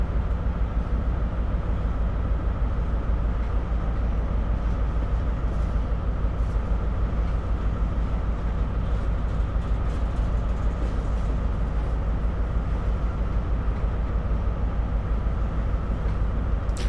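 In Train Sim World 5, a train gears down and slows to a stop, giving a steady, loud, dense rumble of machinery and wheels that holds evenly throughout without any voices.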